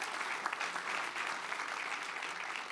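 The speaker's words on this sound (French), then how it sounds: "On peut l'applaudir une nouvelle fois" Sustained, dense audience applause fills a conference hall at the Palais des Congrès d'Antibes-Juan-les-Pins during a closing ceremony, steady and even throughout with no voices over it.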